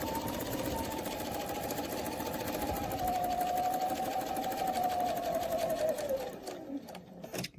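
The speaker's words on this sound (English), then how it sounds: "we're going to stitch down back to the beginning here, just on the one side" A sewing machine stitches through quilt fabric with a steady, close motor hum and rapid needle rhythm, holding pace for several seconds before winding down and stopping near the end.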